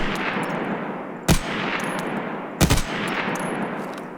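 Gunfire aimed at a rogue bear in a video game: two sharp, loud shot bursts about a second apart, the second a quick double crack, over a constant roar of background game ambience.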